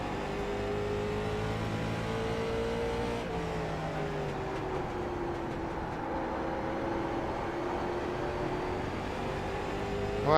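Late model race car engine revving through a track championship race, a continuous loud, close drone with rising and falling pitch as the car works through gears, with no talking.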